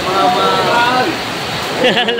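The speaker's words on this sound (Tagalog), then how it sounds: "Lakas ng ulan dito." Heavy rain at a livestock auction market for cattle, carabao and horses in Lucena, Quezon: a loud, dense, continuous hiss of downpour, with voices talking faintly beneath it.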